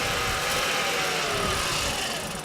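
A belt-drive pedal power bicycle generator on a bike stand spins up into a steady, fairly loud whirring hum of belt and rotor, with a broad rushing noise and no talking.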